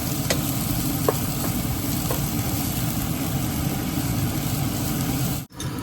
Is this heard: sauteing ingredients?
yes